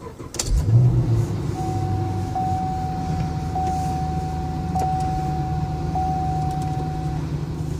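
A 2010 Chevrolet Camaro SS engine cranks and fires up close by, then settles into a steady, rumbling idle. A thin, steady electronic tone runs alongside it.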